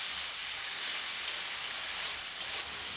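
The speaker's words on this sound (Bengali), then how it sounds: "পেঁয়াজটা একটু হালকা ভেজে নিচ্ছি।" Onions lightly frying in a pan for mutton, a continuous close hiss and sizzle with no voices.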